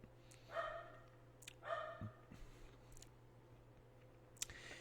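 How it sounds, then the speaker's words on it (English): Dog barking in the background, two distant barks about a second apart followed by fainter yips and clicks, all quiet and far off. "I got a dog barking in the background."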